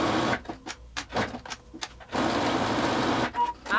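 A sewing machine stitches lace trim onto the pocket of a lab coat in short, close bursts of rapid mechanical whirring broken by pauses, ending in a longer continuous run.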